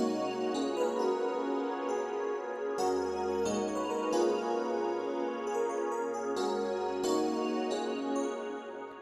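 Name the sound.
ambient synth pad layered with piano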